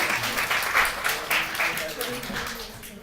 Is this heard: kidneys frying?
no